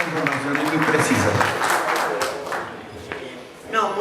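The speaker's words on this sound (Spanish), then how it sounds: "pedimos un aplauso para los panelistas, los ejecutivos de FECODE" Audience applause for a panel of union executives at a teachers' union conference, a dense wash of clapping that swells and fades over a few seconds, with voices mixed in and a louder burst near the end.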